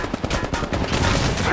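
Rapid automatic gunfire from the video game Apex Legends, a dense burst of closely spaced shots filling the whole moment at steady loudness, with some crackle and noise layered over the repeating reports.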